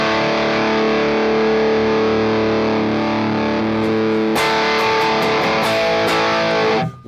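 Electric guitar played through a distortion effect, a loud sustained chord ringing with dense buzzing harmonics, then struck again with a burst of scratchy, noisy strums before cutting off abruptly.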